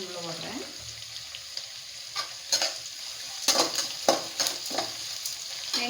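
Finely chopped ginger and garlic added to onions frying in a pan, giving a steady close sizzle with brief louder stirring scrapes and clatters.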